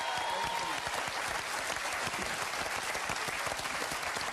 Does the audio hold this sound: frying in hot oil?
no